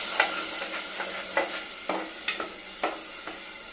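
Spinach puree being mixed into green pulao in a pan, a quiet sizzle broken by a run of regular spatula scrapes and taps, close up, with no voices.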